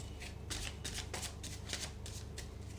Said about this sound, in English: I'm going to shuffle the cards thrice